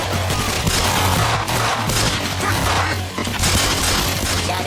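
Rapid, sustained gunfire fills a TV show shootout, a dense continuous barrage of loud, overlapping shots with no clear pauses, close and harsh throughout.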